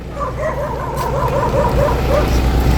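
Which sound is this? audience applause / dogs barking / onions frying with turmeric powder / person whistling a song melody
dogs barking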